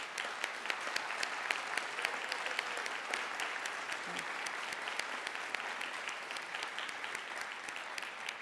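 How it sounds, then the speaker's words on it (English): Audience applause at a Regenerate 2022 agricultural gathering, honoring standing mentors and alumni: steady, fairly faint clapping from a sizeable crowd sustained evenly throughout, with no talk over it. "give you a quick round of applause"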